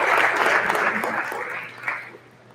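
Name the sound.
audience applause for visiting men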